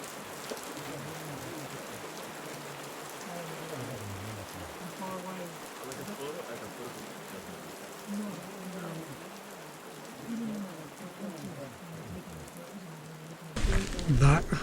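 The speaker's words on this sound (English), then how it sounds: "today was absolutely the wind and rain" Steady rain and wind on a Kilimanjaro hiking trail near Lava Tower, a continuous wash of drops and gusts at even loudness, with a louder rustling burst near the end.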